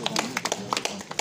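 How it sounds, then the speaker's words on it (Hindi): Audience clapping in welcome at a gathering, a scattered patter of hand claps spread across the moment, moderately close, with faint voices mixed underneath. "आप लोगों से आग्रह करती हूँ कि तालियां बजा करके इनका स्वागत करिए"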